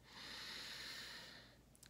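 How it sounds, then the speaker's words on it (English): A deep, slow breath drawn in through the nose and released out through the mouth, a soft, close airy hiss that swells and fades over about a second and a half. "take a deep inhale in through your nose and exhale out through your mouth"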